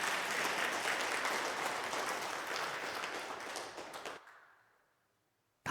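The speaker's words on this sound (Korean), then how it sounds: "우리 박수 한번 하십시다." Church congregation at Namdaemun Church applauding together, a loud, sustained wash of clapping that fills the room for about four seconds, then cuts off abruptly, leaving near silence with a faint tail.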